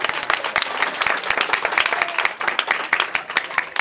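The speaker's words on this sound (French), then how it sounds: "que je vous demande d'applaudir très fort." Audience applause at a French-language religious gathering honoring a prophet, a dense, steady burst of many hands clapping that fills the space, loud and continuous with no talk over it.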